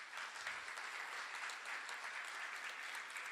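An audience at a conference claps for its speakers, a dense, steady round of applause that holds evenly throughout.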